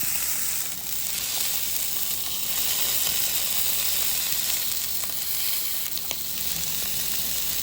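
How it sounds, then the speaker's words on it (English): Wild brook trout sears skin-side down in a hot pan, making a steady, loud, close sizzle with small crackles and pops that continues without a break. "You can hear all that searing sound."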